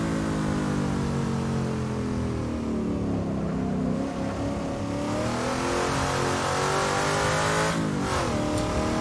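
A racing car engine held at the rev limiter around the Bathurst Mount Panorama circuit, a loud, continuous, steady high-revving drone with a brief dip and recovery near the end.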